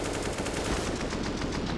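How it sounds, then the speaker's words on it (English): Slowed-down AK rifle fire from a CS:GO match on the Train map rolls out as a rapid, even burst of deep, stretched shots, loud and continuous, with no talking over it. "Now, the slowed down AK sound, one of my faves"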